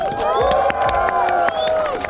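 Cheering crowd at the opening of a skatepark in Milicz, a loud, continuous roar of whoops and shouts mixed with clapping, steady throughout.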